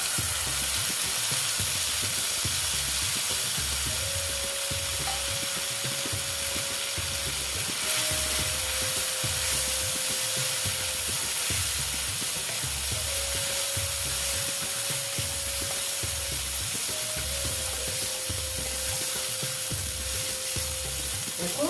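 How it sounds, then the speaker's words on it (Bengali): Joha rice frying in oil in a pan, with a steady sizzle and continuous stirring or scraping throughout, fairly close and even in level, with no talking. "একটা জোহা চাল আমি ভেজে নেব দেখো"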